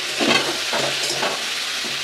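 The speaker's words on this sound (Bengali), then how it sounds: "এবার নাড়িয়ে নেব, ঢাকা দিয়ে দেবো।" A spiced dish is stirred in a pan over a low gas flame, with a steady soft sizzle and a few scraping strokes of the spoon, close and moderately loud, with no talking.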